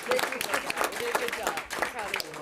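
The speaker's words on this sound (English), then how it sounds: "let's give him a big round of applause" A council chamber audience claps for a first-time public speaker at a city council meeting, a moderate burst of scattered handclaps mixed with voices speaking over it.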